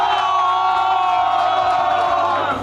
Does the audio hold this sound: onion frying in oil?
no